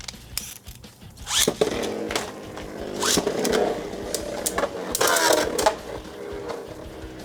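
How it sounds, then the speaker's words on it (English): Beyblade Burst tops grind and scrape against each other in a stadium battle, a close, busy stream of rasping, clattering hits and metallic scrapes with no talking. "Oh, the scraping."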